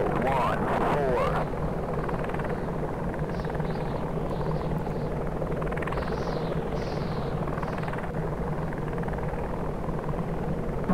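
Comanche and Hokum attack helicopters in the flight simulator game Enemy Engaged, with a steady, loud rotor and engine drone running throughout and a brief burst of other noise at the start.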